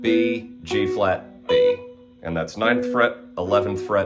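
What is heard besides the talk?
None of the usual background noises is heard.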